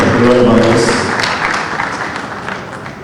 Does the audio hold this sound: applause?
yes